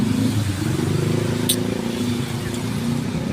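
Busy street traffic of cars and motorcycles in Naga City, Bicol, makes a dense, continuous engine rumble close by, with passing vehicles and a faint clatter woven through it.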